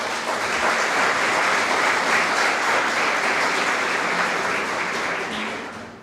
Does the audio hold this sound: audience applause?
yes